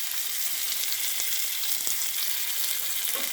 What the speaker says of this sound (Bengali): নিয়ে এর মধ্যে কাজু আর কিশমিশটা একটু হালকা করে ভেজে নেব।